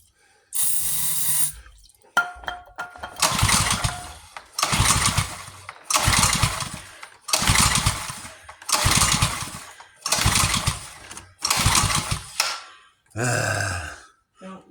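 A salvaged gasoline pressure washer engine being pull-started, with a brief sputter and then a series of regular cranking bursts about every 1.3 seconds, loud and close, and no voices.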